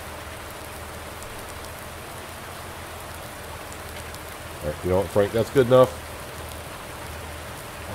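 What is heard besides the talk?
rain falling in video game Farming Simulator 19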